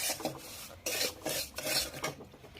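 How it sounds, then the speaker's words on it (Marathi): Peanuts dry roasting in a pan, rough rasping and rattling bursts as they are stirred and scraped around the metal surface, close and rhythmic with short pauses, no voices. "शेंगदाणे भाजून घेऊयात."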